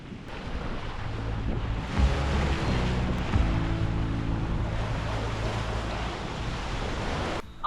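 Steady wind roar and rushing waves around a sailboat under sail at sea, a loud continuous wash with buffeting wind on the microphone and no voices.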